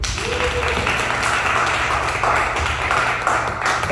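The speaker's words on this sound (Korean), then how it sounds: "박수 한번 쳐주세요" Congregation applauding at a church missionary retreat gathering, a broad, steady patter of many hands clapping together, close and sustained for the whole stretch, with a low hum underneath.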